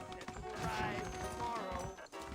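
Horses in the Red Dead Redemption video game clip-clop steadily across ground, hoofbeats blended with a musical backdrop and someone talking over them.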